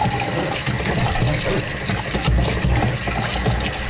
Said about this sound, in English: we will rinse the sink out a little bit